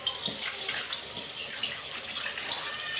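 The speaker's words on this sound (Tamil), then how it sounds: "கொஞ்சம் தண்ணி ஊற்றிடுவோம்." Water poured into a pot of bitter gourd sambar with sambar powder: a steady, soft splashing trickle lasting a few seconds, faint and close, with no talk.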